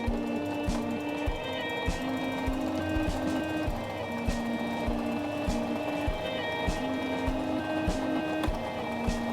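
A Singer mechanical sewing machine stitches a buttonhole, giving a steady, rapid mechanical clatter with regular needle ticks and a constant motor hum, heard close and alone.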